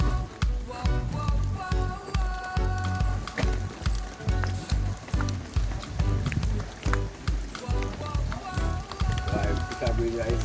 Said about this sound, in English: Right now, rain are falling on the river